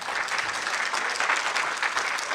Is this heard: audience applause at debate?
yes